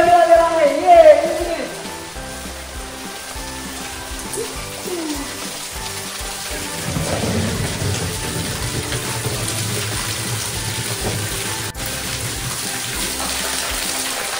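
A stream of water falls like an open tap at a spring on the Sudhagad fort trek, a steady close splashing rush; a voice is heard briefly at the start.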